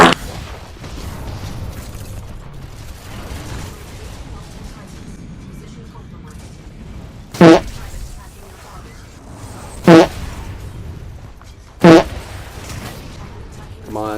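A comic fart sound effect plays in a shooting video game, three short loud blasts spaced a few seconds apart over quiet background game noise.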